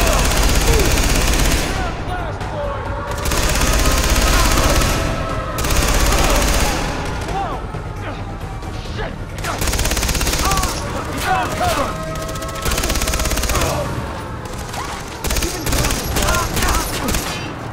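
Heavy automatic gunfire and bursts from the video game Far Cry 3 run nearly continuously, loud and close, with brief lulls between volleys and a voice talking over the fighting.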